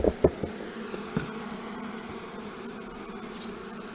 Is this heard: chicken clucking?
no